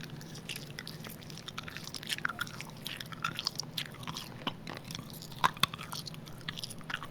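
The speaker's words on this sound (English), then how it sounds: "let's hear that mastic gum. Get it nice and close." Mastic gum chewed very close to the microphone, with soft wet clicks, smacks and crunchy bites in an irregular rhythm against a quiet room hum.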